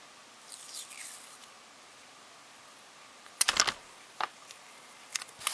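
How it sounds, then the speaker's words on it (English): Masking tape is pulled and torn at a hobby modeling bench, a quiet room broken by a short rasping rip followed by two brief tearing snaps. "let's get some masking tape here"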